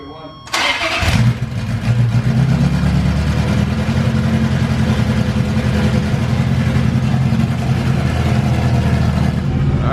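A Ferrari F355 with fully straight-piped exhaust fires up for its first startup, a sharp crank catching into a loud, raw, rumbling idle that holds steady and close for several seconds.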